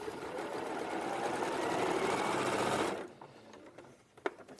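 A sewing machine runs continuously for about three seconds stitching a seam across fabric patches, a steady fast whirring drone, then stops, leaving a few faint handling clicks.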